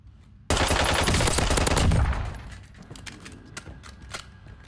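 Hemlock battle rifle fitted with a suppressor, fired in a video game: a sudden loud burst of rapid automatic shots lasting under two seconds, then a tail of scattered quieter distant shots.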